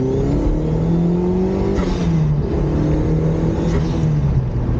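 A turbocharged Lotus Elise accelerates in fourth gear, its engine droning loud and steady from inside the cabin with rising pitch and no talk over it.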